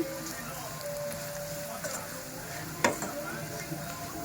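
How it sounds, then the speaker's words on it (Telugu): Bitter gourd pieces coated in chili powder fry gently on a low flame, giving a soft steady sizzle with a brief clink of stirring partway through. "మాడిపోనివ్వకుండా లో ఫ్లేమ్లో పెట్టేసుకొని వేగనివ్వాలి మంచిగా"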